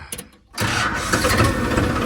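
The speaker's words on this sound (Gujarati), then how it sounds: "હવે આપણે ટ્રેક્ટરને સ્ટાર્ટ કરીએ" A tractor with a loaded trolley cranks and fires up after a short quiet moment, settling into a loud, steady rumbling idle close by.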